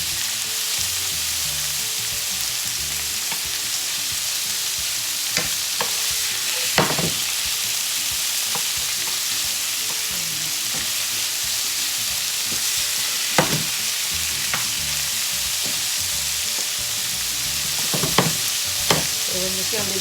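Onions frying in a small amount of oil for chicken quesadilla filling, a steady close sizzle broken by occasional louder stirring scrapes and clicks.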